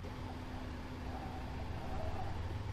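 A tractor drives in the Farming Simulator 22 video game, giving a steady low engine rumble with a faint tonal hum that holds even and continuous throughout, with no talk.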